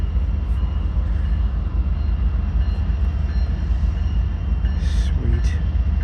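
A Union Pacific freight train rumbles past close by in a loud, steady roar, with a couple of short horn blasts sounding near the end.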